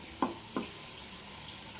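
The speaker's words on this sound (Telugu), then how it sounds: "గోంగూర ఇలా దగ్గరకు అయ్యే వరకు వేయించుకోవాలి" Gongura leaves frying in a pan, a soft constant sizzle under two short knocks near the start, with no talking.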